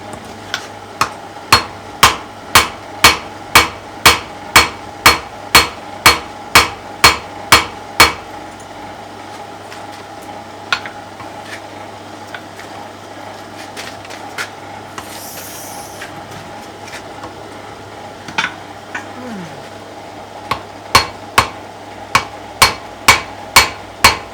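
Metal ringing under steady hammer blows on an anvil: about fifteen sharp, evenly spaced strikes in quick rhythm, then a pause with faint background noise, followed by a few more scattered blows and another short run of strikes.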